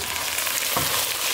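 Okra fries in a pan with a constant close sizzle, and a single stir scrapes through it partway.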